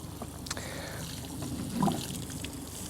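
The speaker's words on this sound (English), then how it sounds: "just water them in." Water trickles and splashes steadily onto freshly planted seedlings in an allotment garden in July, a close, continuous pouring sound with no talk.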